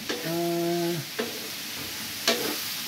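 Pork fat frying in a pan for dinuguan gives a steady close sizzle, with a short tonal whine early on and two sharp scraping stirs against the pan.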